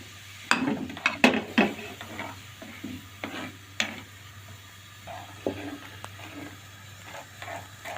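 A spoon scrapes and clinks around a pot while a sweetened mixture with sugar is stirred, producing irregular sharp taps and soft swishes over a low steady hum, close and fairly quiet.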